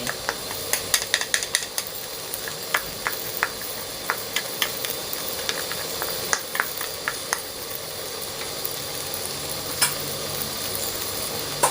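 Broccoli and pork stir-fry sizzling in a pan seasoned with oyster sauce, a steady hiss of frying broken by repeated clicks and scrapes of a utensil stirring against the pan.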